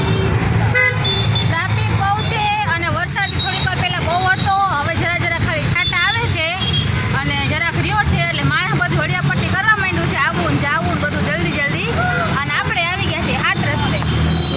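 Heavy traffic at Saat Rasta junction in Jamnagar, with frequent car and bus horns tooting over a dense engine rumble and crowd babble, loud and close, while someone talks throughout.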